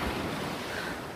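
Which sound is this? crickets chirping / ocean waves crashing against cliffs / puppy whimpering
ocean waves crashing against cliffs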